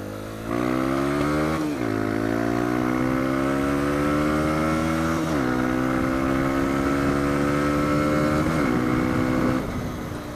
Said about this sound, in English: This is what that exhaust sounds like.